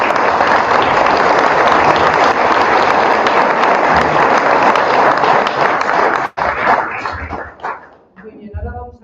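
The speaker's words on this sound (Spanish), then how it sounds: "pues te diera un aplauso" A large audience applauds loudly and steadily for several seconds, then the clapping breaks off abruptly and a few scattered claps and room sounds remain.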